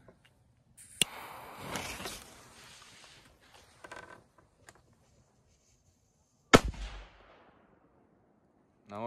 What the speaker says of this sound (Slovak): No môžeme si ju porovnať s Dumbum F3, lebo to sú veľmi totožné petardy.